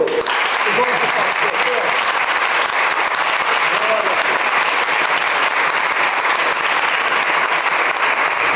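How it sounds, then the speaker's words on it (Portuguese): A congregation at a home church service applauds God. The clapping is loud, sustained and dense at an even level throughout, and voices can be heard within the crowd. "Vamos dar uma salva de palmas para o nosso Deus?"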